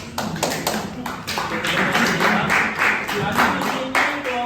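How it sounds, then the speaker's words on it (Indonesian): Audience applause in a classroom during a teacher-training lesson in Semarang, uneven rapid claps and taps mixed with voices, fairly close and loud, continuing throughout. "Oke, terima kasih tepuk tangan."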